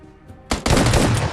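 Rapid automatic gunfire in the mobile shooter PUBG Mobile Lite, a loud close burst of shots that starts after a quiet moment and continues steadily to the end.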